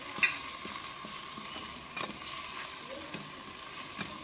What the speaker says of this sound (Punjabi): ਹੁਣ ਇਹਦੇ 'ਚ ਨਮਕ ਮਿਰਚ ਅਤੇ ਹਲਦੀ ਪਾ ਦਾਂਗੇ, ਇਹਨੂੰ ਚੰਗੀ ਤਰ੍ਹਾਂ ਮਿਕਸ ਕਰ ਲਾਂਗੇ